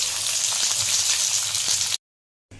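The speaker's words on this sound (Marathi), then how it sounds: "जो मसाला काढलेला आहे तो चांगला आपण भाजून घ्यायचा आहे" Ground masala spices with turmeric and red chilli powder roasting in a pan, giving a steady, close sizzle that cuts out briefly and then returns.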